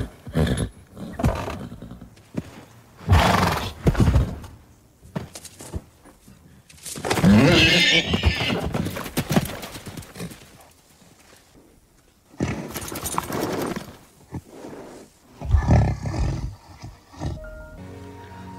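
Horse sounds in a played Western film scene, with clip-clopping hooves and loud bursts of neighing and whinnying, mixed with other noisy outbursts and quieter gaps.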